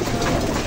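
A pigeon coos, soft and rounded, close by in a brief single call with no talking.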